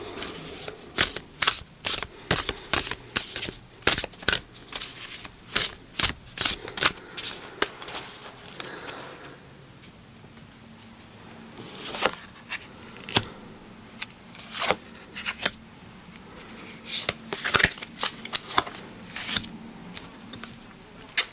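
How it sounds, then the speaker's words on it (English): Women of Myth oracle cards being shuffled close up, a steady run of crisp riffling snaps and flutters with a brief quieter lull midway. "I'm going to do a little more shuffling"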